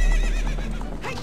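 A horse in The Legend of Zelda: Ocarina of Time lets out a loud, close whinny lasting about a second, with no voices over it.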